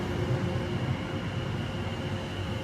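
A Greater Anglia train stands at the platform in Chelmsford with a steady low rumbling hum and faint mechanical whine, close and continuous, with no voices.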